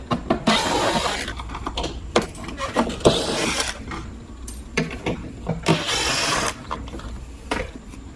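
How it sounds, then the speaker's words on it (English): Four T15 screws are backed out of the fog light housing on a 2018-or-later Buick Enclave. Short bursts of driver whirring and mechanical clicks repeat close by, separated by brief pauses. "And now we can remove the 4 screws that hold this on."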